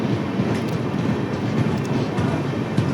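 A train at a railway station in Telangana rumbles steadily and close by, with a continuous rolling roar and faint rhythmic wheel clatter throughout, no talking.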